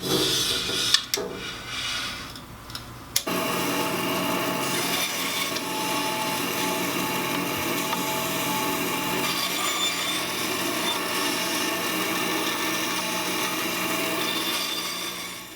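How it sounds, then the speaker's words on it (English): A bandsaw cuts 1 1/4 inch oak dowel into one-inch sections with a continuous, steady rasping whine that starts abruptly after a few seconds of quieter shop noise and runs unbroken to the end. "I need 24 1-inch sections cut off of this dowel, and I'm going to do that at the bandsaw"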